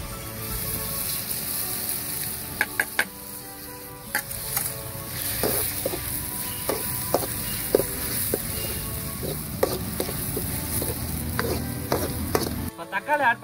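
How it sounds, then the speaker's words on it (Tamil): Ginger garlic paste fries in a pan with a steady close sizzle, broken by repeated sharp scrapes and taps of a spoon stirring against the metal. "இஞ்சி பூண்டு விழுது ஆட் பண்ணிக்கலாம்."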